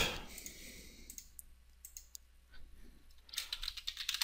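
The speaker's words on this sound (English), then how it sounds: "I'm just going to rename them by double-clicking on them slowly." Rapid computer mouse clicks and keyboard typing at a desk while modeling a part in SOLIDWORKS, sharp close taps in short bursts separated by quiet gaps, faint and without speech.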